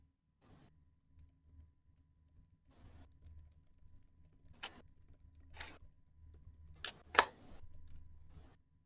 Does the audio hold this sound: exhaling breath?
no